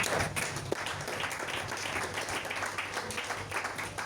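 A church congregation bursts into applause, many hands clapping in a dense, sustained patter that fills the room at moderate level, with a few louder individual claps standing out.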